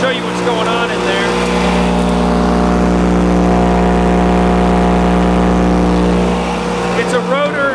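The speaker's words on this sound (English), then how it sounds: "This is our little VS8. It's an 8-inch shredder with a comb in the bottom." An 8-inch VS8 shredder with a rotor spinning through a stationary comb grinds pistachio, a loud steady droning machine hum with strong tonal harmonics that holds throughout. It runs close and continuous, with talk over the noise.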